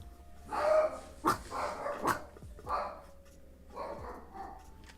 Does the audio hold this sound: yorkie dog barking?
yes